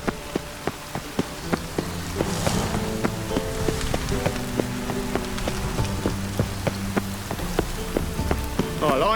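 Steady rain patters on surfaces in a Witcher 3: Wild Hunt game scene, a continuous close hiss with sharp individual drops ticking through it, over a low background hum and faint tonal game sounds.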